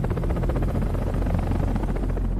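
A helicopter's rotor thumps in a fast steady pulse over a deep engine drone, loud and continuous without voices.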